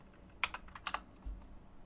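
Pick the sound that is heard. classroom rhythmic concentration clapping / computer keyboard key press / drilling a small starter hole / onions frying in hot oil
computer keyboard key press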